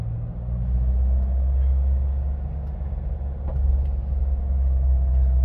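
A Mahindra Thar in 4H held above 2000 RPM at low speed with traction control off, giving a steady, loud, low engine drone and road rumble that swells slightly in places.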